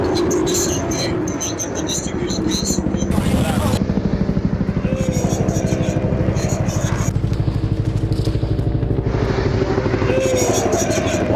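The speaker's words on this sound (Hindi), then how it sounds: "ये देखिए कॉम्बैट हेलीकॉप्टर है। यूक्रेन के टॉरस्क में ये हमला करता हुआ दिखा है।" Twin-engine Kamov Ka-52 combat helicopter on an attack run over Toretsk, Ukraine, a steady loud rotor chop throughout with a brief high burst, while a voice talks over it.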